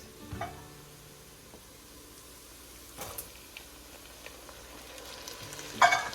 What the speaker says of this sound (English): And now we're going to go ahead and add the black-eyed peas.